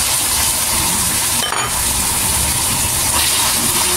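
Beef stir-frying with ginger and garlic for beef hor fun, a loud, dense sizzle with a brief clatter of stirring in the middle.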